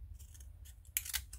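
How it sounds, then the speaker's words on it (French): Scissors snipping through paper or card during a pen-pot craft project, a couple of quick close crisp cuts, the loudest near the end, over a low steady background hum. "je coupe"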